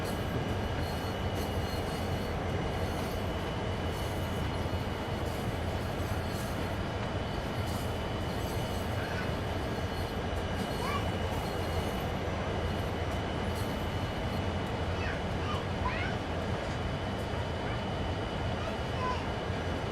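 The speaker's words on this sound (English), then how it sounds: "I can operate the locomotive from the ground" A diesel locomotive in Train Sim World 3 drones steadily as it runs, a constant low rumble with faint mechanical tones over the full stretch, heard from close by on the ground.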